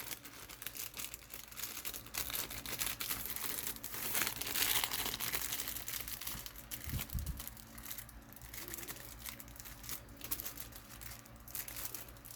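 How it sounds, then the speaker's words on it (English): A collector's edition cardboard box for The Legend of Zelda: Tears of the Kingdom slides into its plastic sleeve, continuous close crinkling and rustling of plastic with a few soft thumps. "we're going to slide the box back into its plastic"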